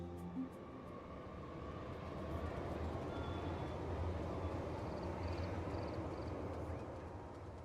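Subway train in the life-simulation game Inzoi, a steady broad rumble that swells and holds through the stretch with faint high tones over it, no talking.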